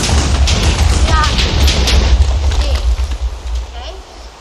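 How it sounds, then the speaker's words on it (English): A blocky Minecraft reaction dynamite charge from the TooMuchTNT mod goes off in a loud, rumbling burst of booms that fades over a few seconds, with a voice talking over it. "Oh, explosion. Reaction dynamite."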